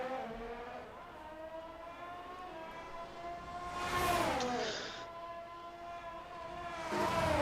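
Formula One cars from a racing video game lapping the Monaco street circuit, their high, buzzing engine whine rising and falling in pitch through gear changes, with louder passes near the middle and end.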